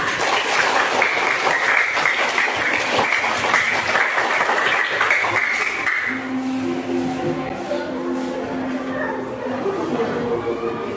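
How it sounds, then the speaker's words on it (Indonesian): A classroom group claps for the second presenting group, a dense burst of applause over about six seconds that thins out, with room chatter and murmuring continuing underneath afterward. "Beri aplaus untuk kelompok 2."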